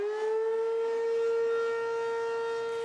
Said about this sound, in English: Those sirens are part of Severe Weather Awareness Week